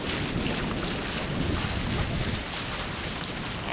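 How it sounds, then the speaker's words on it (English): Strong wind of about 20 knots rushes steadily over a sailboat moored off Grand Cayman, a broad, constant roar with water wash underneath and no pauses. "And 20 knots of wind."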